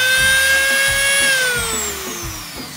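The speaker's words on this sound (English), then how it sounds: "I use this Dremel at pretty high speed" A Dremel rotary tool spins at high speed while drilling through acrylic, giving a loud, piercing whine that holds steady and then slowly drops in pitch as it cuts, with no voices.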